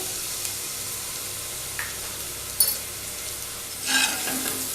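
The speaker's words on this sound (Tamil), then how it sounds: "பச்சை ஸ்மெல் போகிற வரைக்கும் லைட்டாக வதக்கிக்கோங்க" Ginger garlic paste sautéing in a pan for a South Indian elephant yam kuzhambu, a soft continuous sizzle with occasional spoon scrapes and a brief louder stir near the end, no talking.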